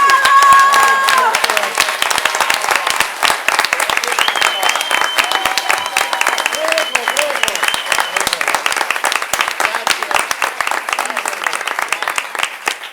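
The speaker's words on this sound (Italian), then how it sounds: "vorrei un ultimo grande applauso per un gradito ritorno sul palco per Giuseppe Corrisi." Audience applauding at a theatre performance of the comedy Dyskolos, a dense, sustained burst of clapping across the hall with cheering voices and a whistle-like tone rising over it, steady throughout.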